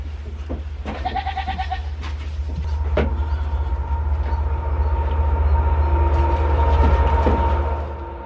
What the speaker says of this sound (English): since the train's coming around